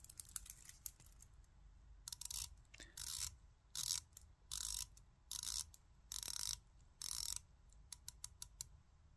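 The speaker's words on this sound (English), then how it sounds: "And let's turn the bezel." The dive bezel of a Rolex Submariner homage watch is turned in bursts of rapid ratcheting clicks, several separate close, crisp runs with brief pauses between, with no talking.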